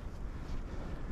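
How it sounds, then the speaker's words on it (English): Steady, loud wind buffets the microphone on a mountain trail, a dense low roar with no gaps over a short moment. "We got us some wind today."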